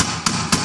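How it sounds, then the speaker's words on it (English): Two sharp hammer strikes, evenly spaced about a quarter second apart, driving nails and pins in a classroom craft production setting, loud and close with no talking. "you need to be very careful with your hammering and nailing because you may hit your fingers."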